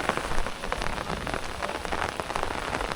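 Steady rain patters densely on a surface, a continuous wash of droplets close by with no voices.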